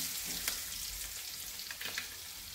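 Asafoetida dropped into hot oil with chillies and curry leaves for a tempering sizzles in a continuous soft hiss, with a few small pops and stirring scrapes.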